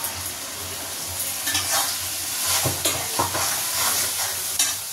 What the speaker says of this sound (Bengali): আর এখন মশলা কষিয়ে দিয়ে দেবো।